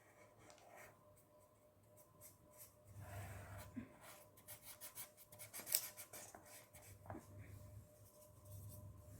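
A marker scratches and rubs across a board in short strokes as a baby is sketched during an obstetrics lesson, faint and intermittent over soft room noise, with a brief breath or sniff.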